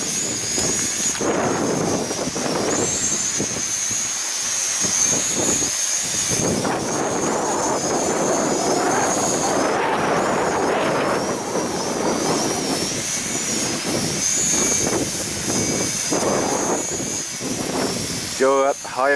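A camera drone flying in strong wind at a beach nature reserve, its high steady whine running throughout, partly buried under loud wind buffeting and people talking nearby.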